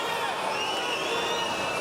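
A basketball arena crowd on its feet roaring and cheering as Kobe Bryant shoots free throws against the Timberwolves, a loud, dense, continuous roar with whistles and shouts cutting through.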